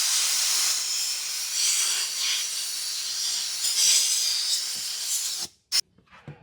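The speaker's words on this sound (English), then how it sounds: "through the magic of having a shop with some compressed air" Compressed air blows steadily to dry restored interior plastic trim from a 1990s Ford F150 in a shop, a loud close hiss that stops abruptly near the end, followed by a couple of brief bursts.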